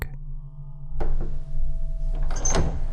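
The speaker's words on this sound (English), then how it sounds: "The handle turned again." Door handle turning and a door shifting in a quiet office at night, a horror sound effect: a sharp thunk near the start, then a muffled knock, followed by a louder scraping rattle of movement, close and alone over a low steady hum.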